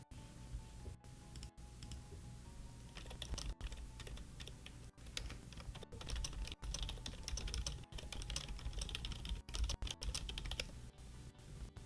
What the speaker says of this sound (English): More keyboard ASMR.